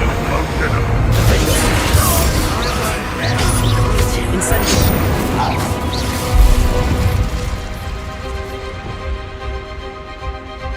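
Incendiary fire spell cast in the Hogwarts Legacy video game, a burst of roaring flame and crashing impacts amid dense battle noise and music, loud and continuous, tapering off toward the end.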